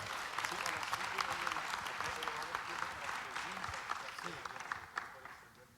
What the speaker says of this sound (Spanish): Un aplauso, hermanos, a nuestro hermano